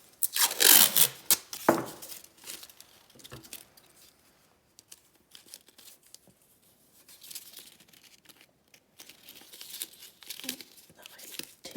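Tape is pulled and torn off a roll while making tools. Loud crinkling rips come early, then fainter scattered rustles and crackles follow for the rest of the time.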